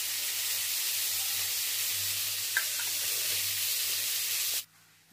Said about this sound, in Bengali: দাও এবার ভালো করে নেড়ে চেড়ে এটাকে তৈরি করে নিই